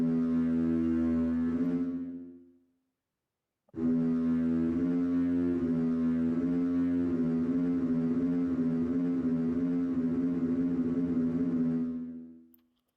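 A melody played on a keyboard, low sustained tones in two phrases separated by a brief silence, loud and close with no talking.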